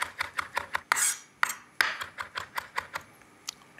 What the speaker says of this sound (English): with that, we're going to add some mint. And we'll just give that a quick chop.